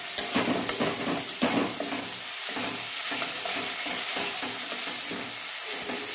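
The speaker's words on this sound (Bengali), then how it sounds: "মশলাটা কষা হচ্ছে আর আমি 4টে কাঁচা লঙ্কা চিড়ে দিয়ে দিলাম" Spice paste with four slit green chilies frying in oil for tel koi fish curry: a continuous sizzle with steady stirring and scraping, louder strokes early on, then an even, close frying hiss.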